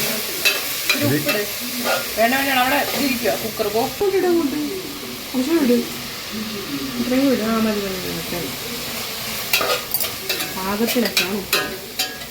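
Prawns fry and are stirred in a pan for a simple homemade prawn curry, giving a continuous close sizzle with scraping and clinks, while people talk over it.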